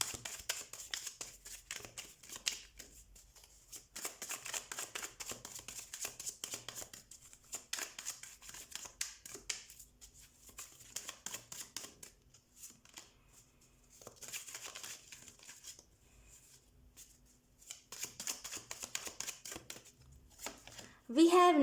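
Tarot cards shuffled by hand in quick riffling bursts, faint and close, returning again and again under a voice that talks through most of the stretch.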